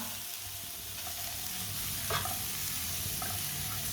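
Dates cooking on a stovetop pan over low heat give a soft, continuous sizzle with faint stirring scrapes and a brief clink, close and steady, with no voices.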